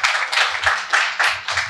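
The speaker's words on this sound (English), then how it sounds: "Big round of applause for that." Audience clapping at a talk event, brief rhythmic bursts of hand claps swelling and falling about every quarter second, fairly close and moderately loud, with no talk over it.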